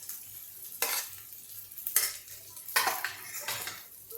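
Ground green pea paste is stirred in a pan with a metal spoon, giving repeated scraping clatters against the pan over a faint sizzle, each stroke a short loud burst.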